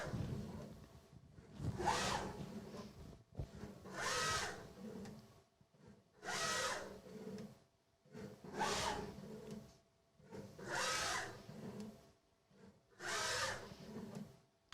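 A DATRON machine moves its probe between points to measure a part's surface before dispensing a gasket, producing seven repeated whirring motor bursts of about a second each, separated by short quiet gaps in an even rhythm.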